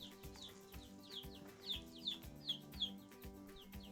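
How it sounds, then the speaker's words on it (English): High, thin chirps from small chicks repeat in quick downward peeps, faint and close, over a quiet background of low music. "Now here comes Rico and Diesel, wanting to know what all the chirping is"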